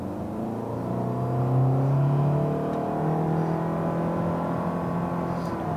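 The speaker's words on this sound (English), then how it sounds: "So let's try a quick acceleration run." Honda Insight hybrid accelerating hard with traction control off, heard from inside as a steady, droning engine note that rises slightly and holds, with continuous road rumble and no talking.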